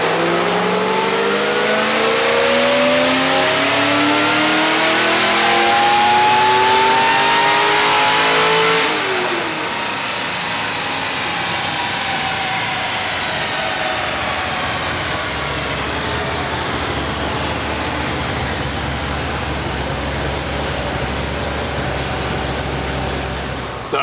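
An LS-engined car roars on a dyno, climbing loudly in pitch through a partial pull, then cutting off and winding down as the rollers spin on with a fading whine.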